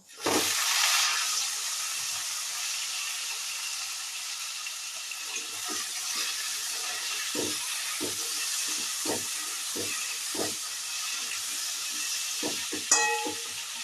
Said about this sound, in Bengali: এঁচোড় আর আলু দুটো আমি তেলে এখন ভেজে নেব